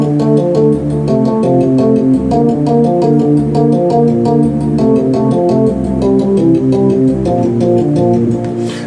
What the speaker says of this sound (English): I ended up coming up with an arpeggio